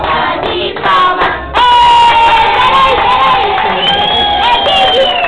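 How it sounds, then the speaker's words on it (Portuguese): At a girl's birthday party, guests break into loud clapping and cheering with children shouting, a close burst that swells and stays strong. "dando a nossa salva para a menina Duda, uma salva de palmas"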